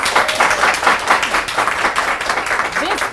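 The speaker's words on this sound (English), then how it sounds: "Clap for the ladies." An audience claps steadily for the ladies on International Women's Day, a dense, continuous applause heard nearby with some crowd voices mixed in.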